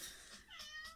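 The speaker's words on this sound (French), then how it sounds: "oui, je sais, mon chat." A house cat meows several times in quick succession, close by and moderately loud, each call a short high-pitched cry with no talking over it.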